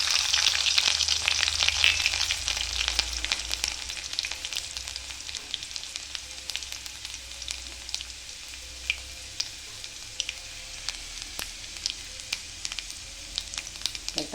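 Garlic dropped into hot oil with crackled mustard seeds, a loud sizzle at first that settles into steady frying with scattered small pops, close and alone.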